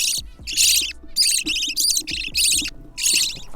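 Many caged pet birds call loudly at once in hungry, harsh screeching bursts, repeated in close rapid succession with short gaps, very near and filling the room.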